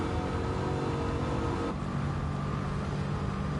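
A car engine drones steadily in Gran Turismo 7, a constant loud hum with a slight pitch shift midway, no talk over it.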